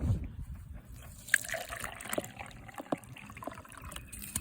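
Water trickles and drips from a drain hose draining a residential water heater during a flush, a soft steady running flow outdoors with small splashes and occasional louder drips.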